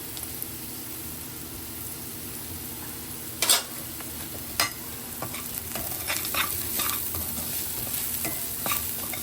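Garlic, onion and masala fry and hiss in a pan while being stirred. The sizzle holds steady and close, broken by a few sharp utensil clinks against the pan.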